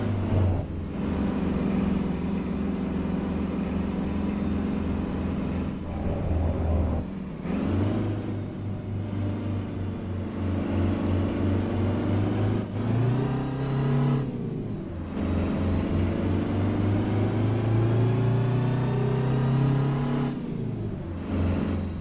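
A custom Peterbilt truck engine in American Truck Simulator drones steadily, with its pitch climbing through repeated revs and gear changes, loud and continuous with no talking.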